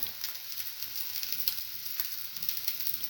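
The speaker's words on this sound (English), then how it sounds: "Move it around. Let it fry." A cinnamon French toast sandwich fries in a pan with a continuous, even sizzle, soft crackles flickering through it, heard up close with no talking.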